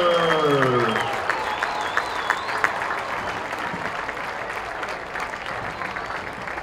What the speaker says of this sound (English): let's give a big round of applause for our future